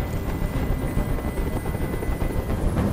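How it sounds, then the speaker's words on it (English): A helicopter in the video game Detroit: Become Human hovers steadily nearby, its rotor thumping in a continuous low, pulsing drone that stays loud throughout. "Tell that helicopter to get out of here."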